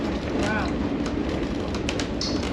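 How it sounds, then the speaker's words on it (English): Passenger train hauled by a locomotive on the New Hope railroad line, heard as a steady, loud, close rumble of rolling cars with faint clatter throughout. "we use this locomotive to pull mainly our passenger trains like this one, as well as some of our occasional freight trains on the New Hope line"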